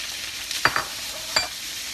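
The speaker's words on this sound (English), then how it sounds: "You hear that sizzle? That's what you want." Tofu hits a hot pan for a quick meal with peanut sauce and vegetables, giving a steady close frying hiss broken by two sharp clinks, as if a utensil strikes the pan.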